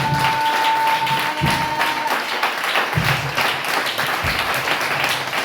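A church congregation claps and cheers in loud sustained applause, with heavy low thumps and rhythmic claps pounding throughout and a brief sustained tone near the start.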